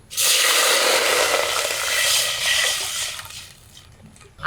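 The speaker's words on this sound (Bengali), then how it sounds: "এখন এই ফোড়নের উপরে জল ঢেলে দিই" Water poured onto a sizzling five-spice tempering in a pan while cooking khichuri, giving a loud, broad hiss and rush of liquid that burst in at once and slowly fade over a few seconds, with no talking.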